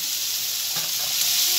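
Flat ghevda bean pods added to a hot pan of oil, giving a steady, loud, close sizzle with a faint stirring shuffle partway through and no voices.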